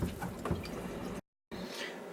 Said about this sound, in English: we'll put some of the peaches in the sink and we'll rinse them off really well with some cool